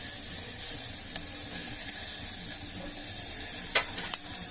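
Onions sizzle steadily in a hot oiled pan with turmeric while upma is prepared, a constant close crackle broken by a couple of sharp utensil clinks near the end.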